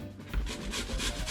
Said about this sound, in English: first step is grate the potato